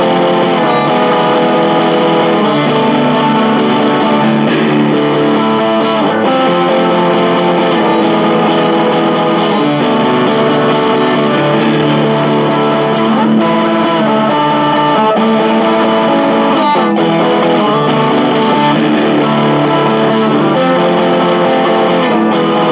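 Electric guitar strumming wide open chords through a King of Tone clone distortion pedal, loud and saturated, sustaining continuously with no talk.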